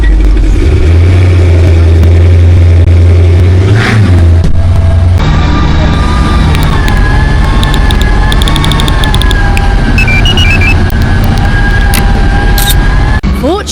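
Powerboat engines rumble and rev under light throttle during the Solent 80 offshore race. The loud, sustained drone shifts pitch midway with overlapping engine tones, and no one speaks.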